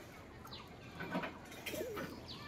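Pigeons flutter and flap their wings nearby, with soft cooing and a few bird calls in an outdoor setting.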